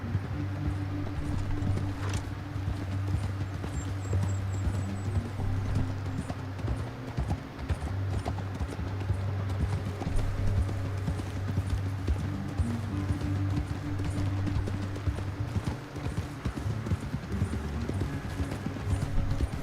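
Horses trotting with rhythmic clip-clop hooves in Red Dead Redemption 2, a steady moderate beat over a low rumbling game backdrop, with faint occasional voices.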